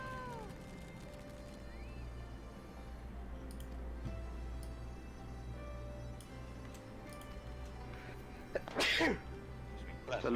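A single sharp, loud sneeze bursts out near the end, standing out above a quiet background of faint ticking and low hum during an indoor game stream.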